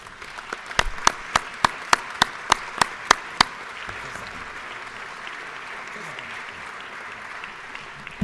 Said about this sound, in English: If you would join me in giving her a hand clap